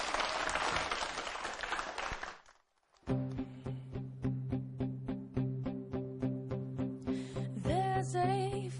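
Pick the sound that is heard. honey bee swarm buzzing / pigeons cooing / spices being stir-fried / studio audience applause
studio audience applause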